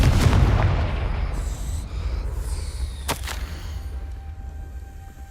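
A Confringo blasting spell explodes in the Hogwarts Legacy video game as a loud, close booming burst that decays over several seconds, with a sharp crack partway through.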